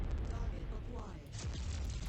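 A heavy rumbling explosion as a target is destroyed in the MechWarrior 5 mech combat game, a loud sustained low boom rolling over dense battle noise for the whole moment.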